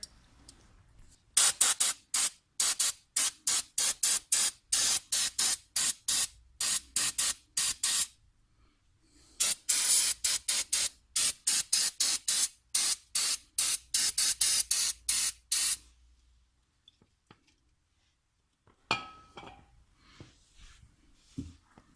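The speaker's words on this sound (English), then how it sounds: "you want to go through and spray all this area right here" Rapid bursts of brake cleaner spray hiss in quick repeated pumps onto BMW front brakes, two long runs separated by a short pause, then quiet handling noises; loud and close.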